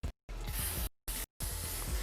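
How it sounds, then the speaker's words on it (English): Hairspray hisses onto a finished hairstyle in three close bursts, the first short and the last the longest, each a bright airy hiss with clean silent gaps. "I'm just going to fix it with some spray."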